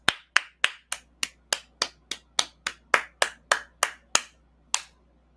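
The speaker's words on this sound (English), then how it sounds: "Applause, applause." A single pair of hands claps about fifteen times in a steady, fairly quick rhythm, crisp and close, slowing slightly before a final clap.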